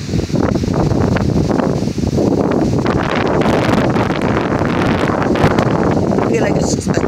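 Strong gusting wind ahead of a storm buffets the microphone with loud, continuous roaring rumble; a voice is faintly audible beneath the noise.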